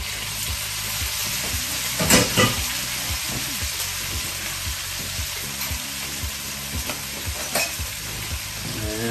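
Mushrooms hiss and sizzle in a hot pan as they are stirred into a balsamic chicken mixture, a utensil stirring and scraping, with a couple of louder bursts of sizzling along the way.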